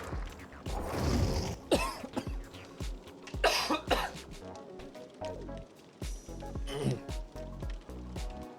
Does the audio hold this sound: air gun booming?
no